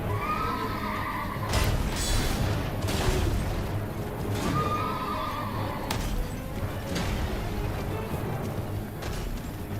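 A horse summoned in the Elden Ring video game neighs and whinnies loudly several times over clip-clopping hooves and combat effects, a busy, continuous game soundscape without speech.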